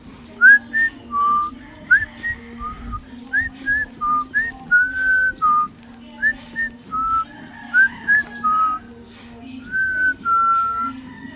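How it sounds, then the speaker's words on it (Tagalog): A person whistles a series of short, bright melodic phrases with brief pauses between them, close and clear over a faint low hum. "Gusto din magsipol-sipol, kagaya ni Mama."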